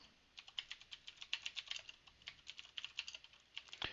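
Quick bursts of key presses on a computer keyboard as a command is typed, a fairly rapid, slightly irregular run of crisp clicks heard close and quiet, with no talk.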